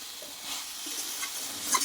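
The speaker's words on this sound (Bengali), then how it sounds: "মশলার সঙ্গে কিন্তু ভেন্ডিটা ভালোভাবে কষিয়ে নিয়েছি আর ভালোভাবে কিন্তু এখানে নাড়াচাড়া করতে হবে" Okra sizzles in a pan with spices and crushed peanuts while being stirred, a close, steady frying hiss broken by soft scraping strokes.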